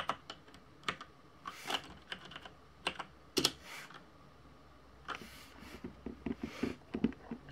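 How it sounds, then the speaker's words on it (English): Typing on a computer keyboard, close and clear, with irregular bursts of key clicks and short pauses between them. "Type in PlayStation."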